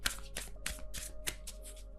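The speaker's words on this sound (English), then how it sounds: "You're telling me to shuffle, so hang on." A deck of tarot cards is shuffled by hand in quick, repeated riffling bursts, soft and close, about seven rustling strokes over a low steady hum.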